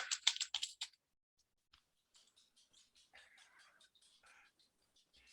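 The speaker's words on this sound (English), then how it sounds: "So I start typing in bellflower, and I am having a problem with my keyboard." Soft, uneven tapping of keys on a computer keyboard, quiet and close, following a brief burst of louder clicks at the start.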